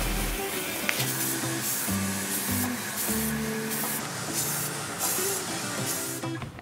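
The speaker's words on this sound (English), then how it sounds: "Now I'm going to add a coat of paint and primer to this before we start painting." Aerosol paint-and-primer spray hisses onto a wooden pendant in steady bursts of a few seconds each with brief pauses between, close and fairly loud over faint background music, no voices.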